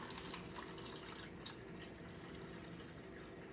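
Milk culture being poured carefully into a yogurt maker for homemade L. reuteri yogurt, a steady close trickling and splashing of liquid that runs continuously without pause.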